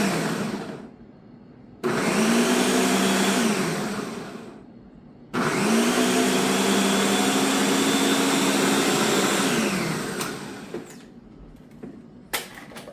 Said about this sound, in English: So basically right now all I'm really doing is I'm just blending this down a little bit.